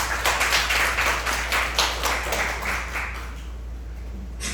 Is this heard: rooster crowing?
no